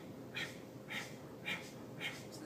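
Four forceful active exhales in yoga breathing, sharp breathy bursts through the nose at an even pace of about one every half second, close and clear with no inhales audible between them.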